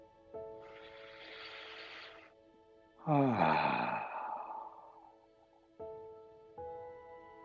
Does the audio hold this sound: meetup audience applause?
no